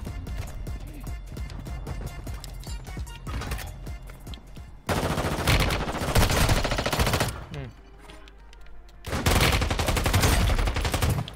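Game gunfire in Warzone Mobile, with bursts of automatic fire from a distance alternating with heavy, loud stretches of sustained shooting and quieter gaps, and no one talking.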